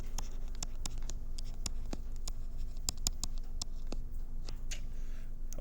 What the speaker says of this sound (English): I'll go ahead and write that word down here.